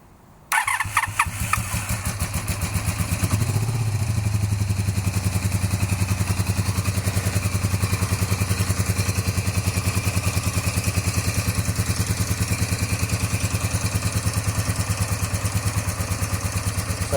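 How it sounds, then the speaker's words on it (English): A cafe racer motorcycle engine cranks and fires after a brief quiet moment, revving up and then settling into a steady, loud idle with a rapid, even pulse that runs close by to the end. "let's see what happens now when we start up the bike"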